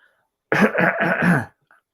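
A quick burst of coughing, three or four rough coughs packed into about a second, close and fairly loud, with silence before and after.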